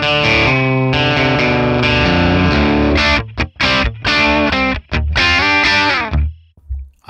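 Les Paul electric guitar tuned to drop D, played through a Friedman PLEX amp capture with reverb: loud, sustained distorted chords ring out, broken by a few short stops and choppy stabs before a final chord fades.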